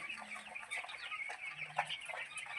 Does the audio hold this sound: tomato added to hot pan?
no